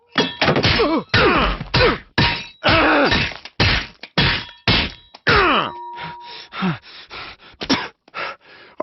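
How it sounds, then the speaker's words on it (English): A dog in Soviet organ transplant experiment footage gasps in loud, harsh, strained bursts, roughly a dozen in quick uneven succession with short pauses between them, up close and with no voices. "This is one of the animal's last gasps."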